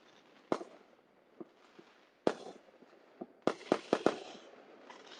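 Fourth of July fireworks explode in Tennessee, sharp distant booms and crackling pops, a few scattered blasts followed by a quick cluster of several bursts, with faint rumbling between them.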